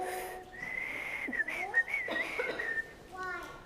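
A lone person whistles a wavering, sliding tune for several seconds, close and clear, with short breaks between phrases over a quiet background.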